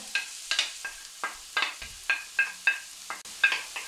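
Diced onion and red pepper sautéing in oil in a frying pan, with a spoon stirring them in short repeated scrapes and soft sizzling bursts, close and moderately quiet, no voices.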